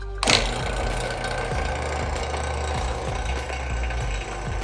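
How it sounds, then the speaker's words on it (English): Vacuum pump hooked to the air-conditioning system of a 2017-2022 Kia Sportage starts with a click, then runs in a loud, steady motorized hum with a faint rhythmic knock, close by and without talk. "And then turn on the vacuum pump."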